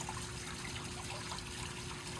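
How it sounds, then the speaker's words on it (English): A water fountain feature at a house trickles continuously in a soft, steady babble, fairly faint and with no voices. "And then over here is your beautiful water fountain feature."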